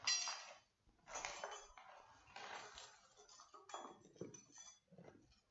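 Glass waste set down on a sensor in an ESP32-based household waste detection system, giving a series of clinking, chinking knocks in several clustered bursts over a few seconds, close and fairly quiet with no talking.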